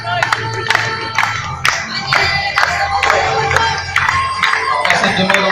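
An audience at a cow judging contest at the Foire Comtoise applauds the judge, sustained clapping with scattered cheers rising over a loud voice on a public address and background noise.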